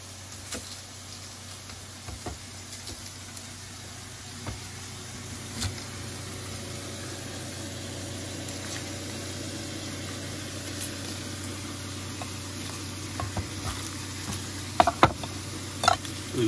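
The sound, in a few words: onion sizzling in a pan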